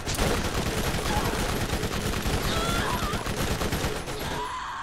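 Turret gunfire in the Borderlands video game, a loud, dense, continuous burst of rapid shots filling the whole stretch before cutting off abruptly.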